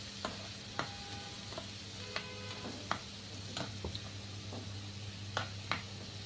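Onions being stirred and mixed in a pan of frying vegetables, with steady low sizzling and a series of sharp spoon scrapes and clicks against the pan scattered throughout.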